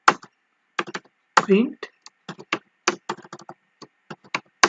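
Someone types Python code on a computer keyboard in quick, irregular bursts of crisp key clicks, close up, while someone talks over and between the keystrokes.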